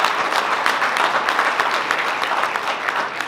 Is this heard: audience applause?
yes